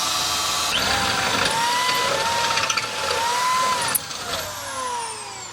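A ratchet or power tool drives bolts while fitting a TinWorks shock relocation kit to a Squarebody Chevrolet Suburban, a loud close mechanical whir with rising and falling pitch and a sharp clack near the end.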